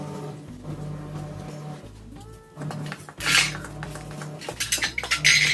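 A spoon scrapes and clinks against a bowl while stirring rava idli batter mixed with soda. The sound is a steady, continuous rubbing and tapping at close range, and it gets brighter and more clattery toward the end.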